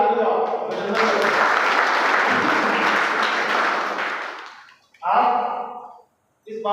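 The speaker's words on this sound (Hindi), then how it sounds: "आप सभी लोग ताली बजाओ, अभिनंदन करो।" Students at a college induction programme applaud in a long, loud burst that fills the room and then fades, followed by someone speaking close to the microphone.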